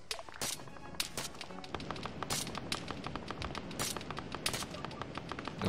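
Sharp gunfire crackles across an Arma 3 battlefield in irregular bursts of separate shots, some close and punchy, others farther off, with faint talk underneath.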